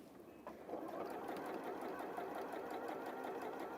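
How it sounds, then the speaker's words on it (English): A sewing machine runs a steady straight stitch through fabric, its motor starting with a brief catch and then whirring continuously at an even, close-up hum for the rest of the stretch. "we're going to sew the whole way around using a straight stitch"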